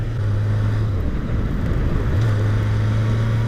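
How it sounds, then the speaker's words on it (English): A Honda CBR1000RR sport motorcycle on its stock exhaust holds a steady, close engine drone. The pitch dips briefly and then settles back to the same level, with no talk. "It sounds awesome. This is stock exhaust, by the way."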